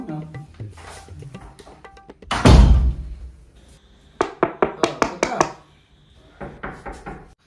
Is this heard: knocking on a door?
yes